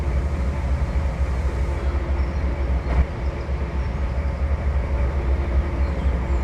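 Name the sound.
train locomotive moving in a video game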